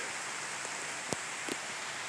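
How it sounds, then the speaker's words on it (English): Heavy rain pours steadily through the woods, a dense, even hiss of drops falling on leaves and the ground, with a couple of louder close drips or taps standing out. "And it is now starting to pour."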